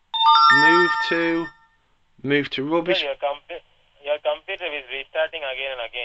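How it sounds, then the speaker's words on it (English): A mobile phone sounds a bright, multi-tone electronic message notification that rings out loud and clear for about a second at the start, then speech follows. "that's just my phone, just messages on my phone."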